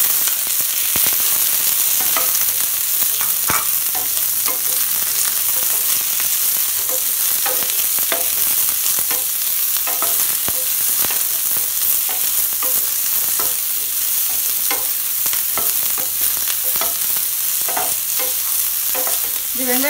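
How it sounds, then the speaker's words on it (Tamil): Chopped onions sauté in hot oil for channa masala, a steady loud sizzle with repeated scraping stirs running throughout, no voices. "இப்போ எண்ணெய் சூடாகிடுச்சு. நம்ம கட் பண்ணி வச்சுருக்கக்கூடிய வெங்காயத்தை இதில் சேர்த்து வதக்கிக்கலாம்."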